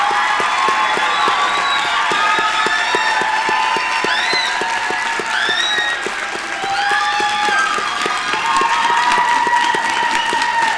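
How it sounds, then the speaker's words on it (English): Sustained applause and some cheering from a large crowd honoring graduates at a winter STEM commencement ceremony, steady and loud throughout with a brief dip partway. "one final round of applause to our graduates."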